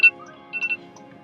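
Phone ringtone playing as a few short electronic tones in a quick series, fairly close and clear with no talk over them.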